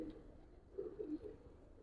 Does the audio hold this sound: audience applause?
no